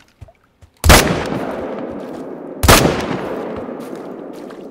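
Two loud rifle shots ring out roughly two seconds apart, each a sharp crack with a long rolling echo, fired at a moose during a hunt in theHunter: Call of the Wild; no talk over them.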